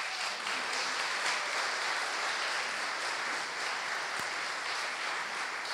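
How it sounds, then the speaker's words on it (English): Audience at a spring choir concert celebrating 45 years gives a steady round of applause, a dense even wash of clapping heard from some distance, moderately quiet and unbroken by talk. "Give them a round of applause."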